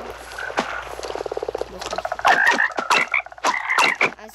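Frogs croak close by in quick bursts, some as fast rattling trills, others as deeper repeated calls, overlapping in a lively chorus.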